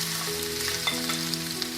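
Crushed ingredients sizzle in hot ghee in a pan after mustard seeds have popped, a steady close frying hiss with a few small crackles.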